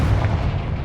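A Confringo spell blast in a Harry Potter video game, a single loud, booming burst with a rumbling low body that fills the brief moment without talk.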